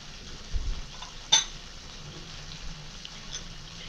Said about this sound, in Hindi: मसाले चला लेते हैं अच्छी तरीके से।